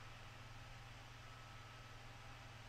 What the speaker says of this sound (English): Oh wait, no, that's the roar of the fan.